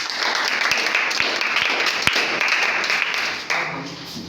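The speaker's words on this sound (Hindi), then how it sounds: "प्लीज क्लैप कीजिए दोनों लोगों के लिए।" Audience applause greets two guests at an academy event indoors, a dense steady clatter of many hands with a few sharper individual claps, sustained throughout before easing slightly near the end.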